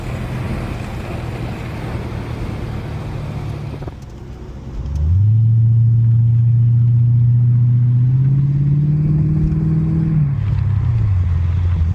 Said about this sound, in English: I'm gonna show you guys some pulls from the outside right now